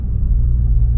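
A Mk7 Volkswagen GTI fitted with an ECS Tuning muffler delete drones with a deep, steady exhaust rumble, loud and close, holding a constant low tone with no revving.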